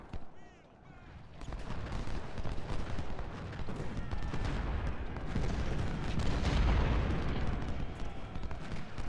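Civil War artillery fire in Ultimate General: Civil War, dense booming cannon and rifle volleys that rumble continuously and swell toward the end, with a voice talking over the battle.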